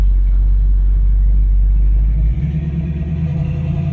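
Deep low rumble of a 1968 Chevrolet Camaro engine while driving, steady and close, shifting to a throatier pulsing tone partway through as the throttle changes.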